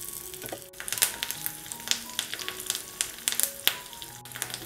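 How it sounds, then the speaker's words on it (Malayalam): Curry leaves crackle and sizzle in hot oil while tempering a tomato side dish, a steady close frying hiss with scattered sharp pops and occasional stirring scrapes, no voices. "കറിവേപ്പിലയും ചേർത്തിട്ട് നന്നായിട്ട് ഇതൊന്ന് മിക്സ് ചെയ്തെടുക്കണം."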